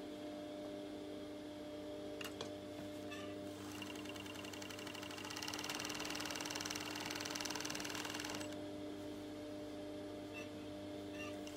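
A serger (overlocker) stitches fabric for a simple four-rectangle tunic, giving a steady mechanical whir under a constant hum. The machine grows louder and busier in the middle stretch, then settles back down.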